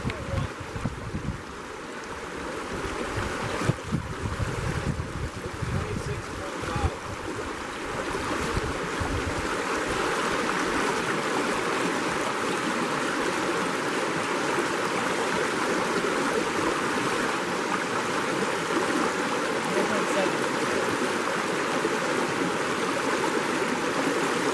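A flowing stream at a field site rushes and gurgles continuously, a steady broadband wash with some close splashing and movement in the water early on.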